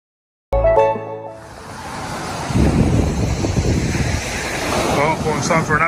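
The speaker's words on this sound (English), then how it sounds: "Sea seems to have got a little bit rougher." Rough sea surf breaking on Gorleston Beach at night, a steady loud wash of waves with gusts of wind buffeting the microphone, continuous and close.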